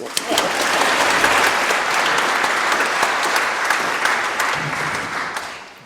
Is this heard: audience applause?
yes